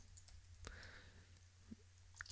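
Sparse, quiet clicks of typing on a computer keyboard, a few isolated keystrokes with pauses between them and no talking.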